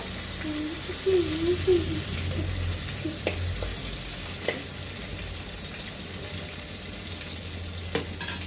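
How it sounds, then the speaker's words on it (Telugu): Green chillies frying and being stirred in a pan, a soft steady sizzle with occasional spoon scrapes and clinks, fairly quiet and close. "ఇప్పుడు పచ్చిమిర్చి వేసుకుంటున్నాను ఇప్పుడు కలుపుతున్నాను"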